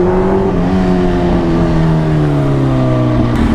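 A 2004-2005 Kawasaki Ninja ZX10R sportbike engine revs loud and close, a steady high-pitched roar with rising and falling pitch throughout, no talking.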